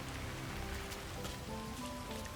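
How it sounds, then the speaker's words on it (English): Steady rain falls in the Dartmoor level of the video game Hitman, a soft, even hiss of drops on surfaces that continues without a break, with no one talking. "Rain, rain, nothing but rain."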